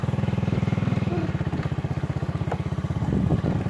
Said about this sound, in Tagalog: Ito may motor.